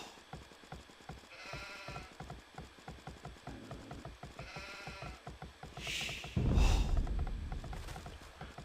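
Sheep bleat in the strategy game Age of Empires II, a few short bleats rising over looping game music, clip-clop footsteps and mechanical interface sounds.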